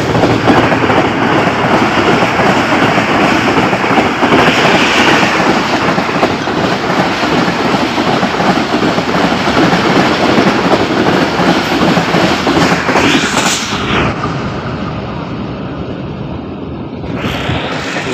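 A train rolls past a closed railway crossing in Pakistan, heading toward Lahore: a loud, continuous rumble and rattle of wagons that holds steady, then eases slightly near the end.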